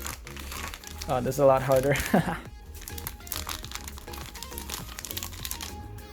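Beyblade X Dran Brave packaging being torn open by hand without scissors, a close, busy run of plastic crinkling and crackling with a louder burst of tearing early on, while a person talks throughout.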